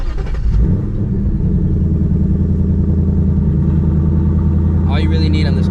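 A 2024 Ford Mustang GT V8 with active exhaust idles and runs with a loud, deep, steady rumble close by, rising slightly toward the end with a brief higher-pitched sound.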